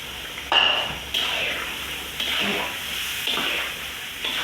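A kilo of yogurt fries in about a litre of oil over a low flame for beef karahi, with a steady close sizzle and several scraping stirs of the spoon through the pan.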